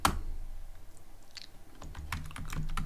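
Python code is typed on a computer keyboard, with a soft run of key taps that grows busier toward the end, close but quiet over a steady low background rumble.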